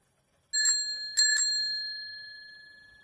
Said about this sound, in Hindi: अचानक उसकी साइकिल की घंटी अपने आप बज उठी।